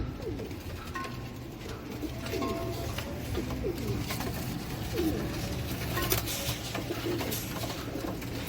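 Pigeons of breeds such as Kamangar, Golden and Saadna coo repeatedly in soft, overlapping throaty calls under a constant background hiss.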